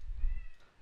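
A single faint, drawn-out cat meow sounds far off over a low rumble.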